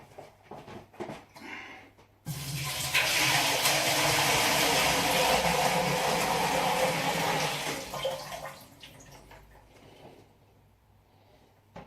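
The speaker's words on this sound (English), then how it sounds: "Alright, let's get the water in." Water gushes into a Buffalo water boiler being converted for home brewing, a loud steady rushing pour starting abruptly after a couple of seconds of quiet handling noise and easing off near the end.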